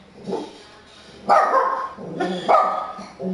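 A dog barks nearby in an apartment, three loud separate barks spaced about a second apart, with quieter whimpering noise before them and no talk over it.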